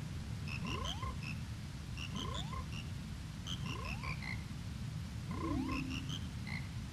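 Frogs croaking together in a chorus in the video game Majora's Mask, a repeating pattern of rising croaks in steady cycles over a constant low rumble of background music, with no talking.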